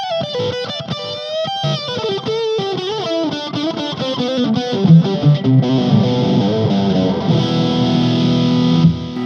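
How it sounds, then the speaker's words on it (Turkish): Distorted electric guitar solo played through a Nux Mighty Space amp with delay effects, fast melodic runs that settle into bent, sustained high notes, loud and continuous with no talking. "Direkt solo çalalım."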